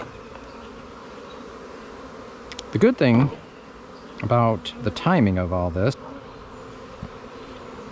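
Honey bees drone in a steady close buzz throughout a bee cut-out, while someone talks in short bursts over the hum.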